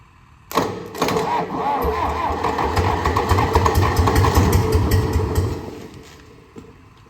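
The engine of a John Deere 2010 traxcavator starts abruptly and runs loud and close with a steady rumbling chug, idling for about five seconds before cutting off.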